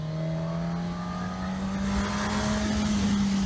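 Suzuki Katana 1000 motorcycle engine accelerating in second gear on an open road, a loud, steady rising tone that climbs smoothly in pitch over wind rush, heard close from the rider's position without talk.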